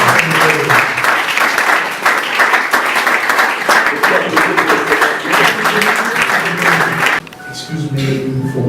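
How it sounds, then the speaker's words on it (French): A church congregation applauds during a service, a loud, dense roll of clapping with voices calling out underneath, ending abruptly as the clapping drops away and talk carries on over a softer background. "Est-ce qu'on peut applaudir pour le Seigneur?"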